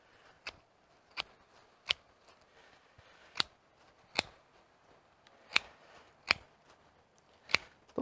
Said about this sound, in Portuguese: Com a tesoura de poda você consegue fazer.